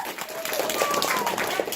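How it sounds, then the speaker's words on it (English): An audience at a live animal show applauds a volunteer helper, a brief burst of many hands clapping with a faint voice and thin tones audible underneath. "big round of applause for Annie for helping us out"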